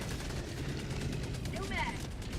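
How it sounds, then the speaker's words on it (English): Rapid automatic gunfire from a sentry turret in Helldivers, a dense, steady stream of shots at moderate volume, with brief whistling tones near the end. "Calling down a sentry."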